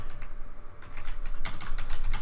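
Rapid clattering keystrokes on a computer keyboard as a short message is typed, sparse taps at first, then a dense burst of clicks, close and fairly loud with no voices.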